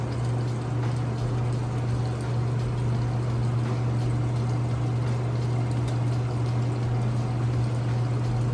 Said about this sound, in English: this actually has a neutral drain cycle here where the tub is not spinning, but it is draining